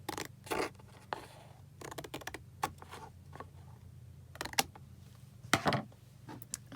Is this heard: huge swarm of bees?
no